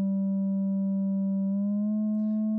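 A Roland JD-Xi analog synthesizer with LFO modulation holds one loud, steady tone that shifts slightly higher in pitch about halfway through. It sounds alone, with no voices.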